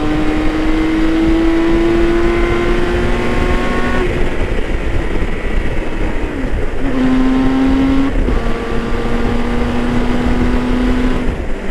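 A BMW K 1600 GTL touring motorcycle on a ride, its engine running steadily and loudly throughout with a smooth drone that shifts pitch as it changes gear and speed, heard close up with wind noise and no talking.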